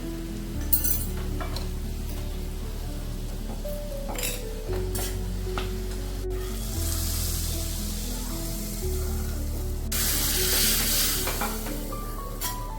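Hot oil sizzles and crackles as red chili powder goes into a chana dal tadka, with a spoon stirring and clinking against the steel pan nearby; no voices are heard.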